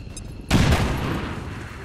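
Gunfire in the video game XCOM 2 hits abruptly as a burst of loud, overlapping shots that trail off into a rumbling decay, following a quieter moment.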